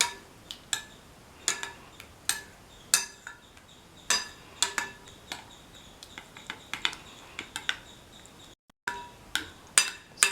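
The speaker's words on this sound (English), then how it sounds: "mix thoroughly and squash the ingredients." Carrot and tomato being mixed and squashed into yogurt in a bowl with a spoon, giving a steady run of sharp clinks and taps of utensil against the dish, close and fairly quiet, with no talk.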